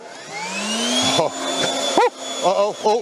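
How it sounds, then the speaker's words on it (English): A small Cobra handheld leaf blower runs with a steady whine that rises and settles, close by, broken by a few short sharp bursts near the end. "now time for the Cobra, the smallest blower we've got here today"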